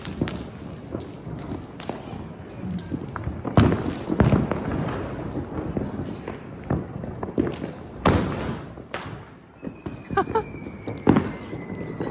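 Diwali firecrackers and fireworks go off outdoors during a family celebration, sharp bangs and pops at irregular intervals, some near and loud, with crackling tails and people talking in between.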